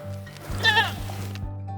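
A single sheep bleats once on a Hutsul farm in Ivano-Frankivsk region, Ukraine, a wavering nasal call close by, over a low steady hum.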